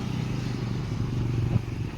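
A modified TVS Raider motorcycle idles close by on a roadside near the Nadiad bypass, a steady low engine drone with light mechanical clatter and a brief sharper blip near the end, with no talk.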